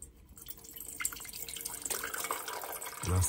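Water from a 16.9-ounce bottle poured into a container at a truck-bed campsite, a steady close trickle and splash that builds and deepens in pitch as the vessel fills, with no talking.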